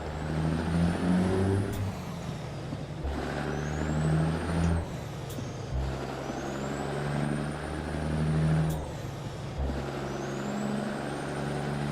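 A heavy International Lonestar truck engine in American Truck Simulator drones steadily, punctuated by repeated sharp hissing air-brake releases and gear-shift dips.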